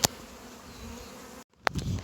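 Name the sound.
swarm of honey bees flying around a hive box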